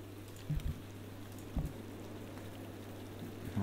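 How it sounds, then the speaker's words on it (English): Steady soft rain hiss in the Parkitect theme park game, faint and continuous, broken by a few brief low thuds. "Oh yeah, just in time for rain."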